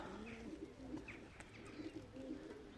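Pigeons coo softly and steadily at a distance, low murmuring calls repeating under a faint background hum with no one speaking.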